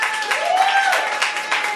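A studio audience on a French-language television quiz show about films applauds, a dense continuous wash of clapping that holds steady throughout, with faint voices and a tonal hum beneath.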